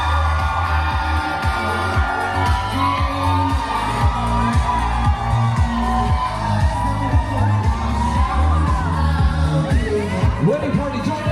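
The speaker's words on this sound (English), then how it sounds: "Clap it up right now for the newlyweds, Mr. and Mrs. Lawson." Wedding guests in a garden grotto and tent venue cheer and whoop for the newlyweds over loud thumping dance music, the crowd noise lively and continuous beneath the beat.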